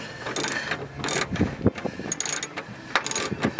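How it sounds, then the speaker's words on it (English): A ratchet bolting down a racing harness, close and loud, with repeated bursts of rapid clicking broken by short pauses and metallic knocks. "now we gotta just bolt down the second one in"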